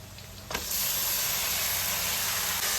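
Marinated mutton drops into a hot pan with whole spices and onion, setting off a sudden loud sizzling hiss that surges and holds steady and close for the rest of the moment.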